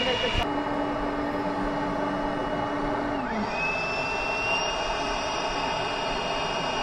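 A vacuum cleaner gives a loud, steady mechanical whine and rumble throughout, with its pitch shifting partway as the motor changes speed.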